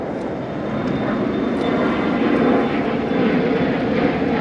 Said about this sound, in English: Airplanes trying to drown me out.